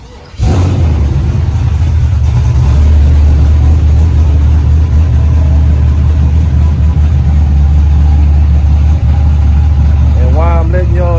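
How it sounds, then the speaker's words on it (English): A 1986 Monte Carlo with a blown engine cranks and fires up, then settles into a loud, steady low exhaust rumble close by that runs to the end, with a voice briefly audible near the close. "let me give y'all a start up and let y'all hear the exhaust"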